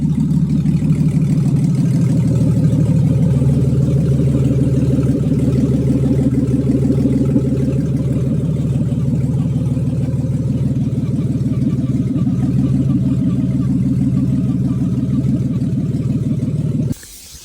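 A project car's engine idles steadily on its own, a continuous low rumble with vacuum leaks still present, holding for the whole stretch before cutting off abruptly at the very end.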